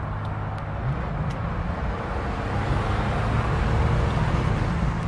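A GMC Syclone truck accelerates hard after brake-torquing and a rev-up, its engine and drivetrain giving a rising, fairly subdued roar mixed with road noise, heard alone at moderate level.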